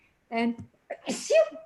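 A single sharp sneeze bursts out close to the microphone during a live online volunteering training session, followed a moment later by a second, voiced burst.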